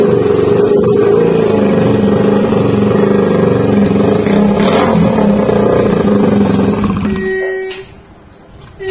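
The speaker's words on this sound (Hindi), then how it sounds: "एग्जॉस्ट ना लगने की वजह से गाड़ी की साउंड इतनी ज्यादा खतरनाक आ रही है" An NS 200 motorcycle engine runs with no exhaust fitted, a loud, raw, continuous roar close by that holds steady for several seconds before dropping away sharply near the end.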